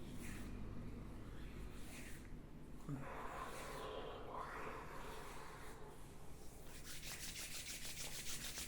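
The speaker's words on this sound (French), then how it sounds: "Autour de la bouche, je mets l'index là au-dessus de la bouche, l'index au-dessous et je frotte." Fingertips rub the skin around the mouth during a self-massage, one index finger above the lips and one below. The result is a soft, close, continuous rubbing and brushing with some faint breathy noise, and no clear talk over it.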